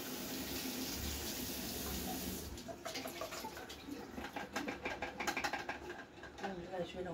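Water trickles and drips inside a coffee machine, a faint steady flow breaking into irregular splashy patters, close by, with someone talking over it.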